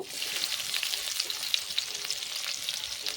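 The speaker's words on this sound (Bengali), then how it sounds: "কড়ার মধ্যে আমি তেল দিয়ে দিলাম অল্প করে। দিয়ে পেঁয়াজ কুচিটা" Chopped onion frying in a little oil in a wok gives a continuous bright sizzle with crackles and pops, steady and close throughout.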